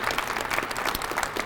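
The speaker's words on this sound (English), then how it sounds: "let's give your family members and friends a round of applause" Dense crowd applause fills a police annual awards ceremony in Cleveland, many hands clapping steadily and evenly at moderate loudness, with no voices on top.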